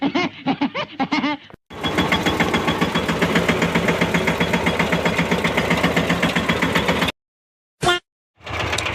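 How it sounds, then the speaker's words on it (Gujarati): A diesel tractor engine chugs steadily for several seconds with a rapid, even knocking rhythm, close and loud, briefly preceded by a short stretch of talk. "હું નીકળી ગયો છું ટ્રેક્ટર લઈ અને મારી વાડીએ ટ્રેક્ટર હાંકવા માટે"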